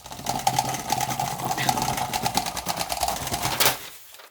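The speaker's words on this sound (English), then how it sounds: "make sure you keep your hands out of the way of the motor in the popsicle stick" Small motor spinning a popsicle stick on a homemade wobbly bot, a steady close buzzing whir with a rattling pulse that runs for several seconds and then cuts off abruptly.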